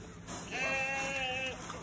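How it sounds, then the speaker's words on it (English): Sheep bleat on a farm, a single drawn-out, quavering call rising over soft outdoor background noise, close and clear. "So we're actually out here with the sheep."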